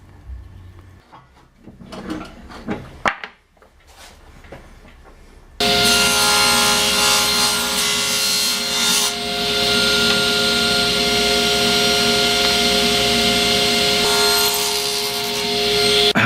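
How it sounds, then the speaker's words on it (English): Wooden blocks cut by hand with a saw, a few soft scrapes and knocks first, then loud continuous rasping strokes close up that carry on to the end without pause. "So I'll cut these blocks and they will be cut at about 30 mil."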